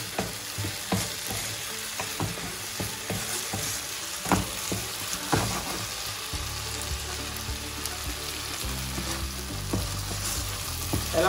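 A Sri Lankan potato roast fries in a pan while it is stirred repeatedly, spoon knocks and scrapes recurring over a constant sizzle, with no voices.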